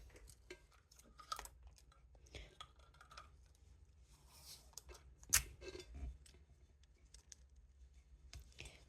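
Scissors snip through material wrapped around a 40 oz sublimation tumbler in a quiet room, with faint, irregular cutting clicks and one sharper snip partway through.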